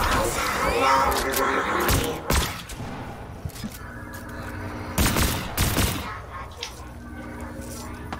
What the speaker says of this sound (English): they were shooting each other instead of shooting me.